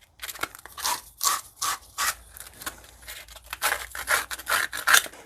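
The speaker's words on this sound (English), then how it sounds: "I need to cut myself 2 pieces of copper that are going to go from here to here" Copper pipe being cut during a whole-house water filter install, a rhythmic series of close rasping strokes in short bursts with brief pauses between, no talking.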